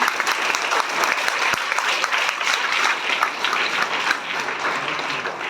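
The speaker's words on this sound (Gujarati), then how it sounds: "ચલો મિત્રો જોરથી તાળી પાડો" Loud, sustained applause from an audience at a primary school prize distribution ceremony, a steady wash of many hands clapping throughout with no break.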